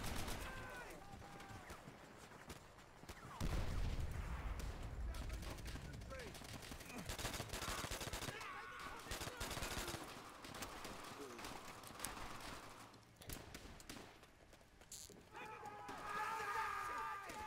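Machine-gun fire from the World War II shooter Call of Duty: World at War rattles in rapid, sustained bursts amid battle noise, with a player talking over much of it.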